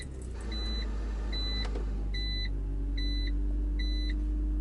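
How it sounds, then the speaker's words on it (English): A BMW X3 is started with a classic key: a low engine rumble catches and settles into a steady idle, with a series of electronic beeps chiming over it, close, with no talking. "So, once again, the classic key. Start her up and hear how she runs."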